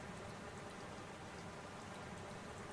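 Rain falling in a lush green alien jungle in the game Metroid Prime, a soft, steady hiss of many fine drops with no breaks, quiet and alone.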